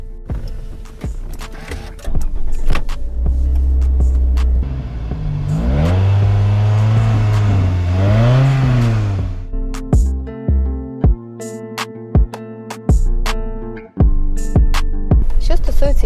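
A 2008 Toyota RAV4 2.0 with an automatic gearbox starts and pulls away, its engine humming low then rising and falling through a couple of revs, followed by clicks and cabin noises.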